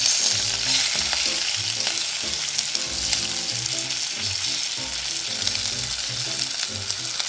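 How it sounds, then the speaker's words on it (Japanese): Meat being rolled around in a hot clay donabe pot sears with a loud, continuous sizzle and crackle, with steady stirring and rolling movement underneath and no talking. "転がしながらお肉の全面に焼き色をつけていきます。"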